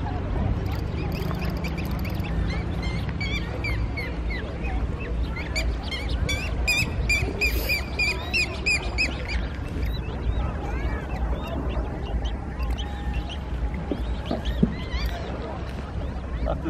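Ducks quack in bursts at Lake Garda in Torbole while chasing coot chicks, raspy calls rising over a steady outdoor rumble with people talking nearby.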